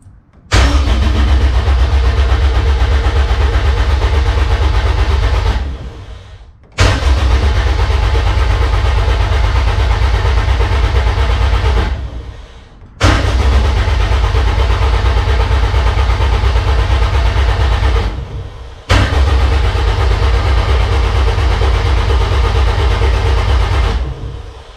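A Honda K20 engine in a race car cranks over on the starter with no firing, in four long, steady bursts of about five seconds each, separated by brief pauses, loud and close with no talking.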